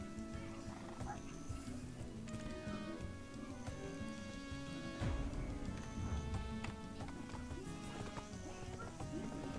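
Clip-clop of a mare's hooves in the online game Black Desert Online runs steadily beneath layered game music and effects, with a brief louder burst midway.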